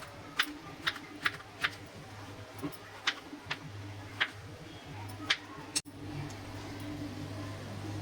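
A knife slices through ridge gourd (dodka) on a board in a home kitchen, about a dozen faint, sharp taps at an irregular pace, with low background hum.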